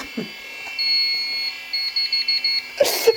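An alarm buzzer on a home server tone-beeps in a rapid series of short pulses over a steady electronic whine, with a man's brief speech and handling noise nearby.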